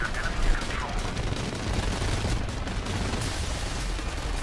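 Continuous rattling machine-gun fire in War Thunder, with dense, rapid bursts over a steady aircraft engine drone, loud and sustained throughout.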